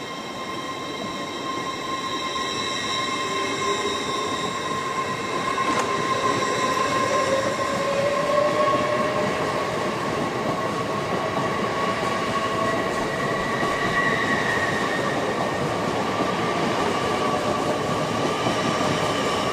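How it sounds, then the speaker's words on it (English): A passenger train departs Darlington station on the main line, its steady rumble and rail noise holding loud and even throughout, with faint wheel squeal and rising tonal whine as it pulls away; no voices. "the latest in passenger travel awaits departure at Darlington for a speedy journey to"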